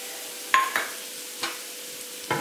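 Grated coconut being stirred into a paniyaram mixture in a pan with the stove off, a few sparse scraping and tapping spatula strokes over a quiet background hiss.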